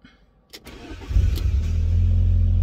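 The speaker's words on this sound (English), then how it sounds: "You hear that starter motor catch a little bit then" Starter motor on a Fiat Barchetta with 97,000 kilometres, left sitting in a garage for years, cranks briefly after a click and catches, and the engine settles into a steady, loud idle close by.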